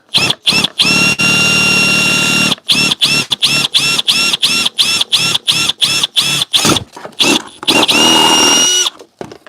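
A power drill drilling through plastic whines loudly in repeated short bursts, starting and stopping in quick rhythm, close up, with a high squealing pitch from the cutting.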